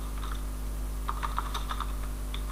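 Code is typed on a computer keyboard during an Ajax in MVC 5 programming tutorial, with quick bursts of key clicks near the mic and short pauses between them, over a low steady hum and with no talk.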